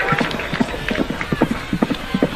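A horse runs at a college football game, its hooves landing in a quick, uneven clip-clop at moderate distance over crowd murmur and a voice.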